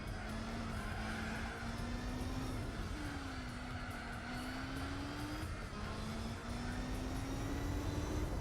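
A Toyota Supra race car engine in Gran Turismo 4 drones steadily at the Suzuka 1000 km, a sustained tone that dips and climbs with gear changes, with a faint tire hiss beneath.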